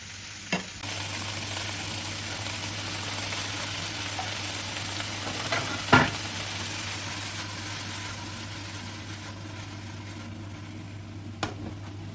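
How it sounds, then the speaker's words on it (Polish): Chopped tomatoes fry in a pan with a continuous low sizzle, broken by a few sharp utensil clinks near the start, middle and end. "I te pomidorki, jak pokroję, od razu daję na patelnię"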